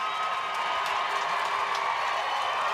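Stadium crowd at a women's World Cup hockey match between USA and Ireland, a steady dense roar of many voices carrying from a distance, continuous and even with no breaks.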